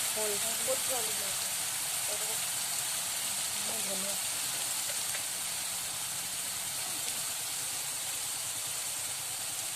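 Ground onion, garlic and ginger paste fries in a pan for an egg and potato curry, a continuous close sizzling hiss running steadily throughout, with faint voice-like sounds in the background.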